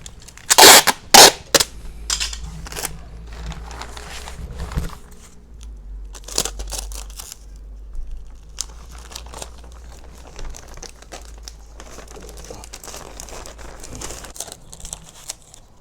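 Adhesive tape rips off the roll in a few sharp bursts, followed by crinkling and rustling as a loose piece of a disposable shower is taped back in place, close and without speech.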